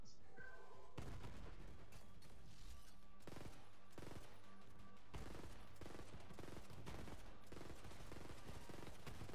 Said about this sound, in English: the legendary is Hyperion Shotgun